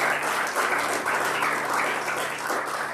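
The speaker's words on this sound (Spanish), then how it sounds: "Denle un aplauso fuerte al Señor Jesucristo." A church congregation gives sustained applause, dense steady clapping from many hands filling the room at moderate volume with no speech over it.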